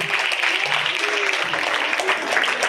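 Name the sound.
audience applause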